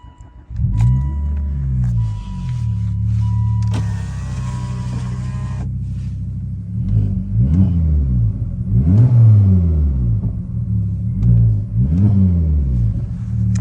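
A Volvo S40 T5 fitted with a Turbosmart blow-off valve idles and drives, its engine rumbling loudly up close with repeated rising and falling revs, and any valve flutter buried in the engine noise.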